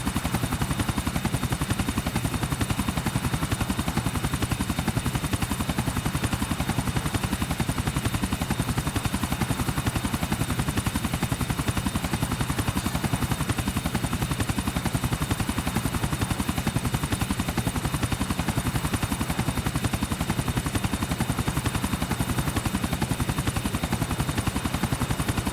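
A helicopter flies continuously in GTA IV: The Lost and Damned, a dense, steady rotor-and-engine drone that holds at constant loudness throughout with no speech.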